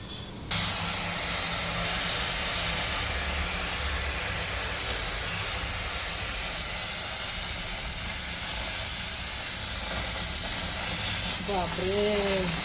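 A pressure cooker of rice vents steam in a loud, continuous hiss that starts abruptly and holds steady, with sputtering as the rice boils over; a woman exclaims near the end.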